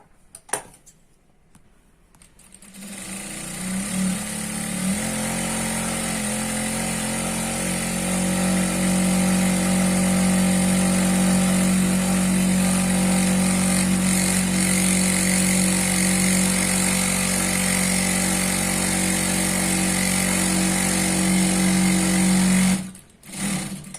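A sewing machine runs steadily for about twenty seconds while double stitching a churidar pant, a constant close motor hum with a continuous whirring drone, starting and stopping cleanly.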